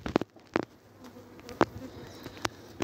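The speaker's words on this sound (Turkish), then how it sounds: "Gördüğünüz gibi en baştaki kovan şu an yavru uçuruyor." Honeybees at a beehive entrance while young bees take flight in the morning, a soft steady buzz with individual bees zipping past close to the microphone in brief, louder passes.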